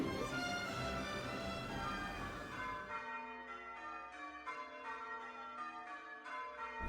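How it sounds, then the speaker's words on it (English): Church bells ring out steadily on Christmas Eve, their struck tones repeating in a regular pattern over a broad wash of background noise that fades partway through. "I don't know if you can hear the church bells ringing"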